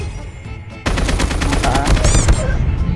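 Rapid automatic gunfire in the mobile shooter Call of Duty Mobile bursts in abruptly, a loud, dense string of close shots rattling steadily for a couple of seconds after a quieter lead-in.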